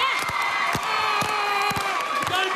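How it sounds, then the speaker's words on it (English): A telethon audience cheers and whoops together, a loud, continuous crowd roar punctuated by sharp shouted bursts throughout. "Okay, everyone, you ready to cheer it on?"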